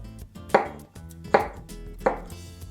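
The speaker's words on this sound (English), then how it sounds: "So we're gonna slice it really thin so that they can be blackened very quickly." A knife slices a pepper thin on a cutting board, with three or four crisp, evenly spaced chops ringing out up close, no talking.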